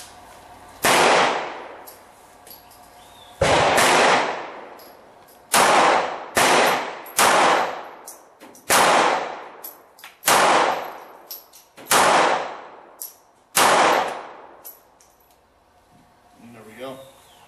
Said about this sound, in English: Very little recoil on the 380.